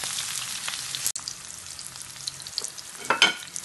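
Seafood rice fries in a pan while being stirred, a soft steady sizzle under light scraping and a few sharper clinks toward the end, close and fairly quiet.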